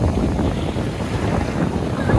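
Large sea waves wash in on Ajman beach under heavy wind buffeting the microphone, a dense, close roar of surf and gusts with no talk.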